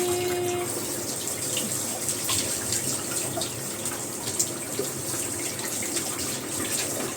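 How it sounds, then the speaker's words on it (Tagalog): Water runs steadily from a tap while a cat gets a bath, a constant close splashing flow with faint clinks, and a person speaks over it. "Maligo na si Meme"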